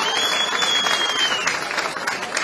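An audience at an indoor ceremony claps in sustained, even applause, a dense patter of many hands that carries on at a steady level, with a voice faintly present underneath.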